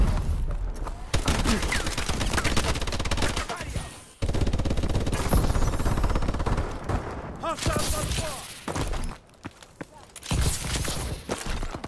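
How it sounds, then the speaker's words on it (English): Remote turret machine gun in Call of Duty: Advanced Warfare firing long, dense bursts of rapid automatic gunfire, loud and close, broken by brief pauses, with game voice lines mixed in. "Remote turret ready for deployment."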